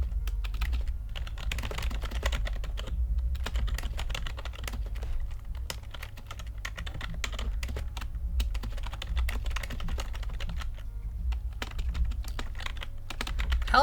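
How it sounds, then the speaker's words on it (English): A computer keyboard being typed on steadily and continuously at close range for the whole stretch, with dense, fast key clicks and short pauses while entering recipes into a digital recipe book; no voices. "Helps if I read what I'm typing instead of just putting in what I assume it says."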